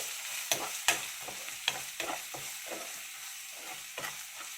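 Ground coriander, cumin, cinnamon and clove powders fry in a pan for a chana dal coconut curry, giving a close, steady sizzle broken by sharp scraping strokes of a spoon stirring, with no voices.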